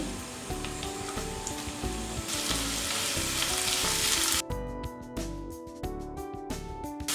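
Chopped onion and garlic frying in a little oil for a bitter gourd stir-fry give a loud, steady sizzle that runs throughout, with tonal music underneath.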